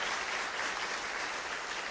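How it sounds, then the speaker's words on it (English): Continuous dense applause from the audience at a high school scholarship night, a brief, even roar of many hands clapping with no breaks. "I think we should give them a round of applause"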